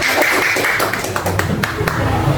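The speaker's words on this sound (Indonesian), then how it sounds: "Yuk kita kasih tepuk tangan untuk kelompok." Classroom applause for a group of students in a fourth-grade Christian religious education lesson: dense, steady clapping from many hands throughout, with voices mixed in.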